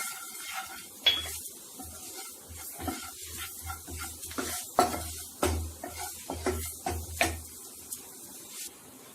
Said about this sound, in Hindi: इसको अच्छे से हम मिक्स कर लेंगे